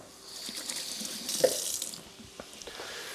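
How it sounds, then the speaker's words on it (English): Running water from a kitchen sink tap splashes over hands being washed, a steady mid-level rush with small splatters and drips throughout. "Wash my hands real quick"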